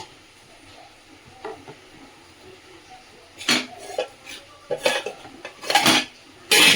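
A metal lid is set onto a cooking pot of khichuri with several sharp clanks and scrapes near the end, after a quiet stretch of faint kitchen clinks.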